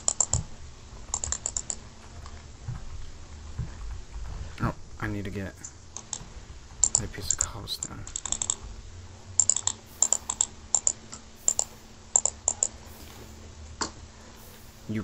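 Rapid keyboard and mouse clicking during a Minecraft game, with bursts of sharp clustered clicks separated by quieter stretches, up close, and people talking over parts of it.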